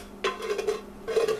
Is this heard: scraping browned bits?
yes